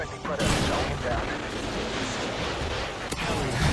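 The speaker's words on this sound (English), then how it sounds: "Chief then gets a final lock on the gravity well and fires a Predator missile to blow it on up" A Predator missile blasts a gravity well in the Halo 4 video game, with a dense, sustained roar of explosion and rumbling debris, a sharp crack near the end, and a voice speaking underneath.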